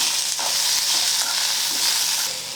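Curry leaves, coriander and mint frying in a pan with oil, a steady close, loud sizzle with light stirring throughout, no voices.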